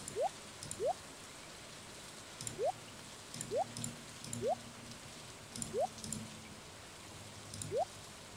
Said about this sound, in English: While it's still very rainy.